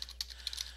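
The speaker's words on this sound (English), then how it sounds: "I'll go ahead and type it in real quick." Brief, quiet typing on a computer keyboard: a few irregular light key clicks in quick succession, close by, with no voices.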